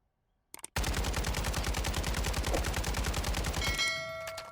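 Sustained automatic gunfire in Warzone 2.0 while testing a rear grip attachment on a recoil-tuned weapon: a loud, rapid, evenly spaced stream of shots lasting about three seconds, then a brief ringing tail.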